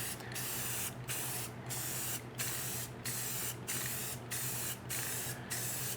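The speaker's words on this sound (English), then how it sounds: "we're going to spray parallel, not arc" Spray paint can hissing in regular bursts, about nine short sprays each roughly half a second long with brief gaps between, a steady broadband hiss at moderate level over a low background hum.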